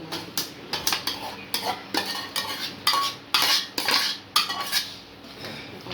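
Rice for temple-style lemon rice being stirred together with its tempering, a spoon scraping and clinking against the vessel in quick, repeated strokes, close and fairly loud with no talking.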